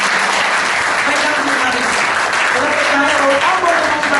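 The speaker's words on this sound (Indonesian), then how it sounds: "Boleh kita berikan tepuk tangan?" A church congregation at Gereja Abbalove applauds together in dense, sustained clapping that fills the room steadily from start to finish, with no pauses.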